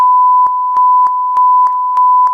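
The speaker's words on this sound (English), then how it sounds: "So can you tell me if you hear the beeps?" A test card tone sounds as a run of seven short, identical, evenly spaced electronic beeps, loud and clean over silence.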